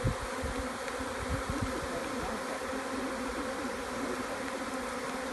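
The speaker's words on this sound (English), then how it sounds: "all the bees are on the walls and the floor, and they're fanning, they're flapping the wings" A collected honeybee swarm fans its wings in a dense, continuous buzzing drone, close and steady throughout without voices.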